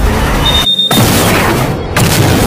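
A loud, sustained roar of a large gas-leak explosion at a pharmaceutical researchers' quarantine site fills the scene, with a brief sharp cut of near silence before the blast noise resumes.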